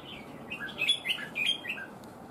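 A red-whiskered bulbul gives a quick series of bright, clear chirping notes close by over a soft background hum, several short calls in a lively burst.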